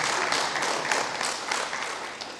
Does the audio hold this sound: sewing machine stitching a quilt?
no